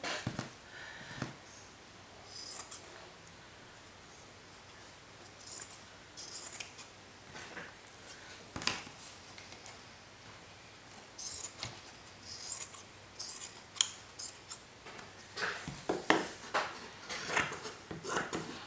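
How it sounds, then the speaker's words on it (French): Scissors snip the corners of an album cover in a series of quiet, close, irregular clicks and cuts against a hushed indoor background. "Je découpe un peu les coins pour que ça ne fasse pas une trop grosse épaisseur."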